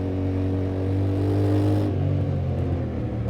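A 2025 Yamaha Tenere 700 motorcycle engine pulls steadily, then dips in pitch and note as the rider shifts with the quick shifter and no clutch, heard close and loud with no talking.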